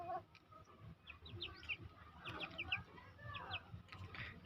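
Young chickens on a small backyard farm cluck and chatter at close range, short bright calls overlapping over a soft, uneven background, with no talking.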